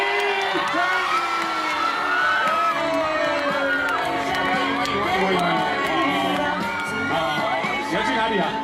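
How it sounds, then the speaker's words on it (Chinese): A concert crowd in Kaohsiung cheers and whoops loudly and continuously to welcome a pop singer onstage, a dense wall of shouts and excited voices with talk mixed in. "那我们热情掌声欢迎"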